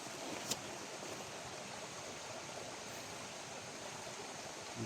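Water from the Davao River flows in a steady, even broadband rush, constant and fairly quiet, with no voices over it.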